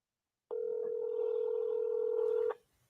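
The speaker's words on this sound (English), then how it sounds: "Let's call him. See if they answer the phone." A telephone sounds a single steady dial tone for about two seconds while a call is being placed. It is clear and fairly loud, cuts off abruptly, and is followed by faint background noise.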